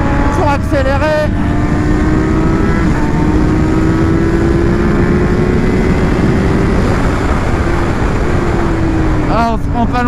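A motorcycle on Bridgestone Battlax Hypersport S22 tyres accelerating out of a long right-hand bend on a track, its engine note loud and close, rising steadily under strong wind roar.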